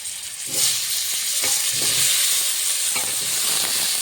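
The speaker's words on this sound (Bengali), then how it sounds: "মাছ ভাজার তেলে আলুগুলো ভেজে নেব।" Potatoes fry in oil left over from frying fish, giving a loud, continuous sizzle and hiss close up. Soft stirring scrapes repeat every second or so, with no talk.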